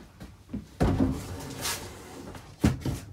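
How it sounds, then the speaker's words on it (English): Pull-out storage drawers under the dinette of a 2020 Cherokee 274DBH camper slide and clunk, giving a few sharp knocks and a brief rolling slide in quick succession, close and fairly loud. "pull-out storage drawers."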